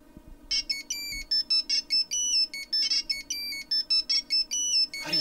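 A mobile phone ringtone plays a bright, repeating electronic melody in regular bursts, fairly loud and near, with no voices.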